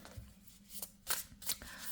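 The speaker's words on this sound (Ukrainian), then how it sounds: "Нормально тасуються, дуже легенькі." A deck of Illuminati tarot cards by Lo Scarabeo, light, matte cards being shuffled by hand in several quick riffling bursts, soft and close, with no talk.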